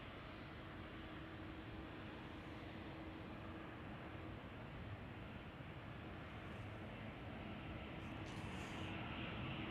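Airliner arriving at Chicago O'Hare, a broad, steady rumbling roar heard from a distance, continuous and without clear peaks, with light background noise and no clear talking.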